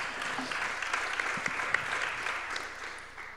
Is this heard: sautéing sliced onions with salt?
no